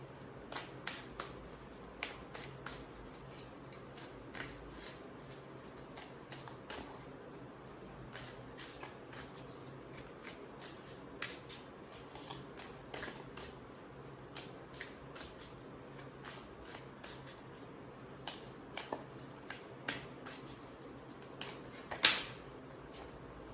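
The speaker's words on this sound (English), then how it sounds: "Let me pick some tarot cards." Tarot cards being shuffled by hand in a quiet room: a long run of soft, quick riffles and papery flicks, irregular and close, with one sharper snap near the end and no talking.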